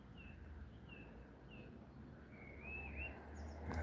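Birds sing outdoors in a garden, with a few short, thin chirps and whistles rising over a steady low hum and background noise. The calls are sparse and moderately faint.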